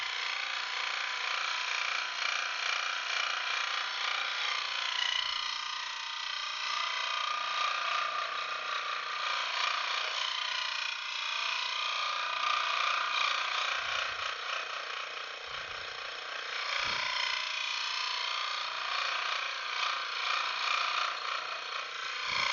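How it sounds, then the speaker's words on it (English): A saw blade cuts through wood while making controller stands, giving a steady, loud, unbroken buzzing drone that runs the whole time with only slight dips, and no voices. "Maybe I'll plan my saw blade attack a little better next time."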